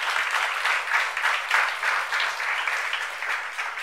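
A church congregation applauds steadily with a dense wash of clapping that swells and eases but stays even throughout, with no talk over it.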